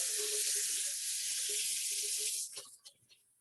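A kitchen tap runs in a steady, close hiss while produce is rinsed for juicing, then the flow cuts off, leaving a few faint drips and clatters.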